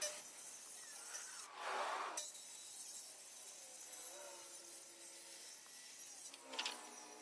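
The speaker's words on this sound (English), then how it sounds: "And so just trimming off the edge." Wooden rafter edges being trimmed during a shed build, giving a steady rough rasping rub broken by a couple of louder abrasive bursts, close and continuous, with no talking.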